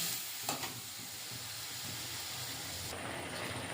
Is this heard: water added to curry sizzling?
yes